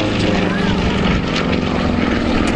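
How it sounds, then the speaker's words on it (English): Engine drone of a Red Bull Matadors aerobatic propeller aircraft during a display manoeuvre at Biggin Hill in 2009, a loud steady roar that fills the whole stretch, with commentary voices talking over it. "that is phenomenal controlling in that aircraft, pushing down now, and here comes the split"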